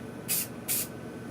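White spray paint from an aerosol can, used to paint a letter through a stencil, comes in two short, close hissing bursts separated by a brief pause.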